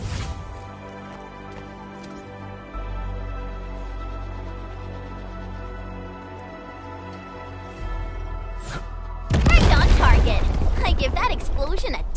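Explosion in the video game Arknights: Endfield: a sudden loud, broad roar bursts in near the end over a bed of ambient game music and soft effects, then rumbles on without fading.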